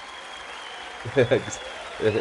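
Applause rustles steadily in the background while a person speaks over it.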